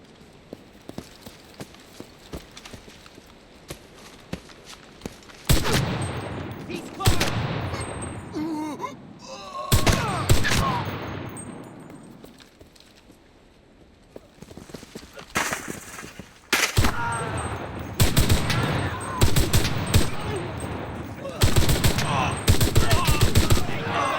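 Rapid bursts from the Artillery Luger submachine gun in a video game, starting sparse and quiet, then loud rattling volleys after a few seconds, with pauses between bursts and faint hoofbeat-like clatter between them.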